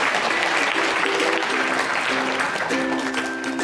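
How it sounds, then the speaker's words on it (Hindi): A crowd applauding Jaydeep at a gathering, a steady wash of clapping that holds evenly for several seconds, with a faint sustained tone beneath it. "ताली बजाइए जयदीप भैया के लिए।"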